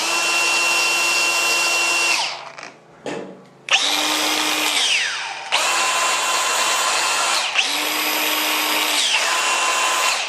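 A Milwaukee cordless angle grinder whines at high speed in steady bursts, spinning down briefly and revving back up, loud and close with no talking.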